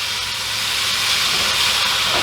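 Pork sizzling in a hot pan, a steady loud frying hiss that fills the whole short stretch with no talk.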